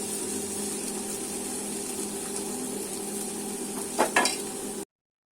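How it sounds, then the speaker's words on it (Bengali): Shredded cabbage stir-frying in a pan for mixed hakka noodles, a steady close sizzle and hiss with a couple of brief scraping stirs near the end before it cuts to silence. "বাঁধাকপিটাকে দিয়েও আমরা দেখুন ভালো করে এর সাথে নাড়াচাড়া করে মিশিয়ে নিচ্ছি।"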